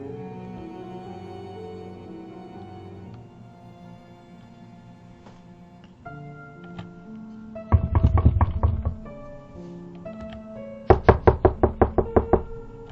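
Knocking on a bedroom window at night, starting with a quiet sustained hum, then a few soft taps, a quick burst of sharp rapid knocks, and a final louder flurry of close, rhythmic knocking.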